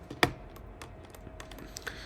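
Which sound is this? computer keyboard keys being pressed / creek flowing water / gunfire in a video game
computer keyboard keys being pressed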